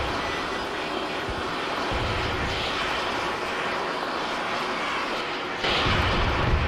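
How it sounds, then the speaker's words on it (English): Aircraft engines in a video game drone steadily as planes taxi, a loud, continuous roar that swells slightly near the end, with no talking. "Trying to get the planes to auto tax here."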